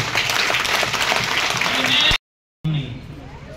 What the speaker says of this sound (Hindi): मैं एक बार चाहता हूँ हमारी माताओं बहनों के लिए दिल से एक बहुत जोरदार ताली हो।